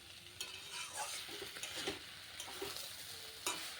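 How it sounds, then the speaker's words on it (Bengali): Ash gourd and shrimp are stirred in a pan over a soft, steady sizzle, the spoon scraping and tapping in irregular strokes at close range, fairly quiet overall with a few sharper clicks. "চাল কুমড়ো চিংড়ি মাছ ভালো করে মিশিয়ে নিয়েছি"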